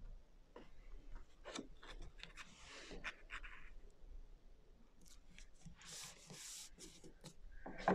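Burnishing a paper page of a vintage-style mini album, quiet scratchy rubbing strokes in short irregular bursts, close but faint, with no talking.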